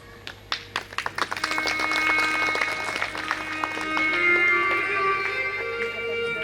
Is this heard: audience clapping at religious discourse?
yes